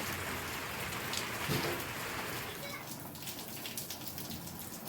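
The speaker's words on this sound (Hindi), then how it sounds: "यहाँ तक कि बारिश भी यहाँ पर शुरू हो गई है।" Rain falling during a dust storm in Didwana, Rajasthan, a steady broadband patter and hiss that stays even and fairly loud throughout, with wind adding texture and no voices.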